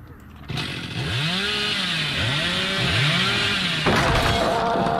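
A chainsaw revs in the Dead by Daylight video game, its engine rising and falling in repeated swelling whines over steady loud game noise.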